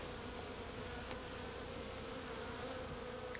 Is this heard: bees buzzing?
yes